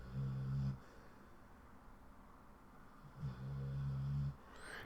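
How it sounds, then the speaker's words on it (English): A pet dog snores in a quiet room: two drawn-out, droning snores separated by a pause of soft breathing, faint and close by. "That is my dog snoring"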